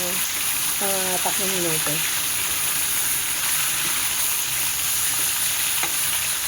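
Bicol Express ingredients sautéing in a pan, a steady sizzle and hiss running throughout with occasional stirring scrapes, close and fairly loud while a voice speaks briefly over it.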